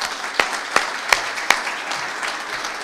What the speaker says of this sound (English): So let's give a round of applause to the winners from TADAC.